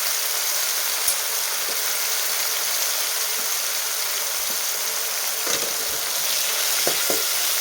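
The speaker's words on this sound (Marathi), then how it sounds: "आता हा टोमॅटो आहे पूर्ण गाळ तर आपल्याला एक दोन मिनटं कमी गॅसवरती छान परतून घ्यायचा" Tomatoes with a little salt sauté in a pan over low gas, in a spiced dal tempering. The sizzle is steady and close throughout, with a few faint clicks of stirring and no talk.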